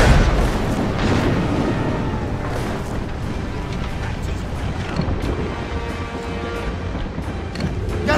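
Ship cannons in an Assassin's Creed Rogue naval battle fire several booming shots over wind and waves, irregular heavy thuds close by amid a constant roar of sea noise.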